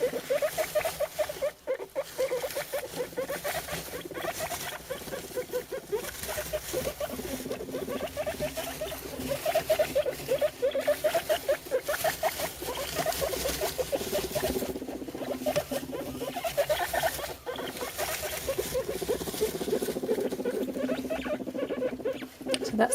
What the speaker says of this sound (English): That's the noise that boars make when they're interested in sows